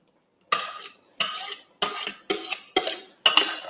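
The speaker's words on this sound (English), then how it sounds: "So I'm going to be adding it inside the cookware so that they will all simmer together." African oil bean (okpaka) is added to a cooking pot of cocoyam pottage in six close, distinct bursts of scraping and rattling, with no talking.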